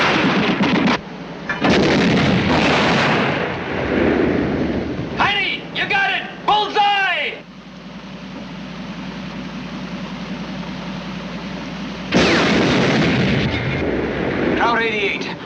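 Machine gun and artillery fire in a WWII battle, loud booming blasts and rattling bursts in stretches with a quieter rumbling lull between them.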